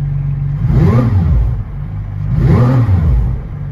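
A McLaren Senna's engine is revved twice, each blip rising sharply and falling away, loud and close with no voices.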